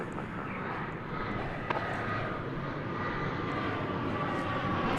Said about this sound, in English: This plane's going to Minneapolis, St.